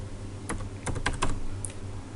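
Someone types a message on a computer keyboard during a Python input and output lesson. It is a quick, close run of crisp key clicks in small clusters over a quiet background, with no talking.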